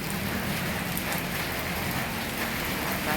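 Heavy rain pours down in a steady, dense hiss of drops striking surfaces, loud and continuous throughout with no voices.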